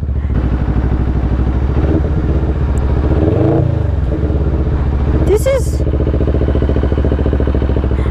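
A CFMoto 400NK motorcycle engine drones loud and steady while being ridden, with a brief rising rev near the middle, as a rider talks over it throughout.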